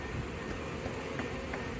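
Honeybees from a swarmed open-air hive built in a tree hum steadily in a dense, close buzz, with no talking.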